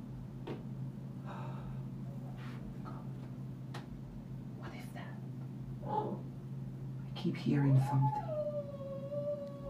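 A dog howls in a long rising and wavering wail toward the end, over a steady background hum with scattered faint sounds during a late-night livestream.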